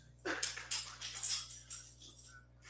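A dog whimpers in a run of short, high, breathy whines, several close bursts that taper off toward the end, heard alone over a faint low hum.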